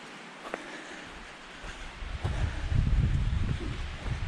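A cool breeze blows across a mountain trail, a soft rushing hiss with low rumbling gusts that build midway, steady and fairly quiet with no voices.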